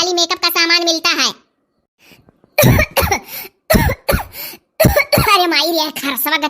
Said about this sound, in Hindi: खांसियो शुरू है तनिक तनिक